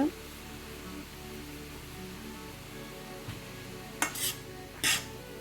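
Cauliflower rice stirred in a pan over a soft continuous sizzle, with a few sharp utensil clinks against the pan near the end.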